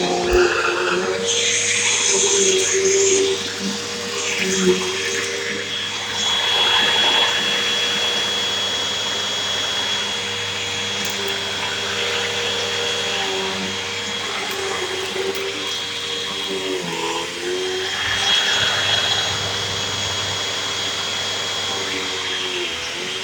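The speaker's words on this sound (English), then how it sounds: "We're back to happy vacuum usage." A Hoover vacuum cleaner, just back in use after its filter was cleaned, runs continuously with a loud, steady motor whine and airflow roar, its pitch wavering slightly as the nozzle moves, with no speech over it.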